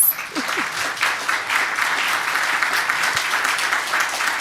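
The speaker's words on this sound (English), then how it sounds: "give our panelists a round of applause" A conference audience gives the panelists a round of applause, steady, full clapping from many hands at moderate distance, holding an even level throughout.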